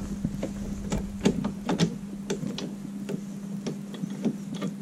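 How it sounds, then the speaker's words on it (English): A screw being driven to hold up an Audi A3 8P glovebox makes small irregular ticks and clicks over a steady low hum, close and fairly quiet. "get one of the screws in while you're holding the glove box up"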